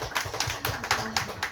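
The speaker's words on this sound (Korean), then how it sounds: "박수 한번 주세요" Applause at a Korean book talk with an author, a few people clapping in a loose, uneven rhythm, fairly close and modest in volume.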